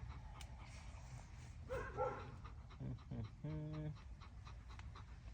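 A dog pants softly and lets out a few brief whimpers and yips, faint and close, over a low background hum.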